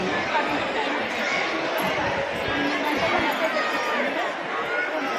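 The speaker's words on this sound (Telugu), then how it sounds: "జనం చూడండి బాగా రద్దీగా ఉంది." A dense crowd of temple pilgrims chattering in a packed queue, a steady wash of many overlapping voices close around, continuous and fairly loud without any single voice standing out.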